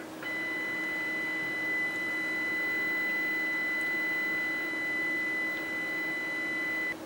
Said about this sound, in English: That's the beep coming through.